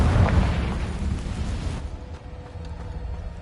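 Fire-based Confringo spell in Hogwarts Legacy blasting with a loud deep boom, then a roaring rumble that fades out over a couple of seconds into quieter crackling.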